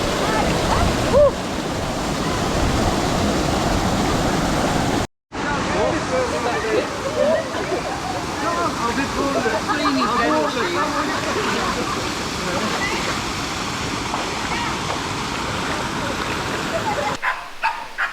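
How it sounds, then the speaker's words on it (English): Water at Janet's Foss in the Yorkshire Dales pours in a constant rushing roar, with voices talking over it, a brief cut to silence, then the waterfall resumes. "we just went for a dip in Janet's Foss, which is like a waterfall"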